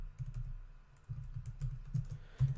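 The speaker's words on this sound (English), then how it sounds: "Follow it up with a pipe symbol, which is Shift and the key under backspace on my keyboard" Keys tapped on a computer keyboard while typing a pipe symbol, heard as a close, steady run of soft clicks and thumps with small bursts of louder strokes and no talking.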